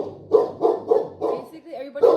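A dog barks indoors in a run of five or six close, loud woofs at an even pace, with a short whine between the last ones.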